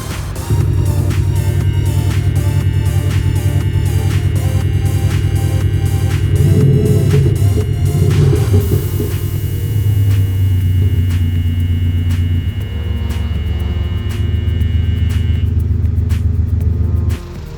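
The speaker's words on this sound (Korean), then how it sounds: "깔끔한 화이트 색상에 소리박 배기 사운드가 적용된 차량입니다." A white 2020 Mercedes-Benz E220 d coupe fitted with an aftermarket sound exhaust rumbles loudly and steadily up close, its low diesel drone swelling briefly midway before settling back to an even throb.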